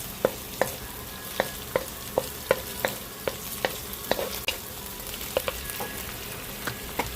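Pork and squid balls being stir-fried for chopsuey in oyster sauce: a steady sizzle with a regular series of sharp spatula scrapes and clacks against the pan, close and fairly quiet, with no talking.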